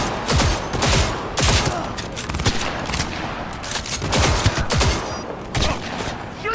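Dense automatic gunfire from a firefight in the video game Cyberpunk 2077, with loud, repeated bursts and sharp single shots rattling continuously with no pause, close and aggressive throughout.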